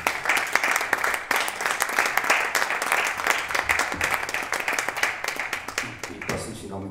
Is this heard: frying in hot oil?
no